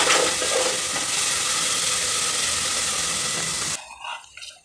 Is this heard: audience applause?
no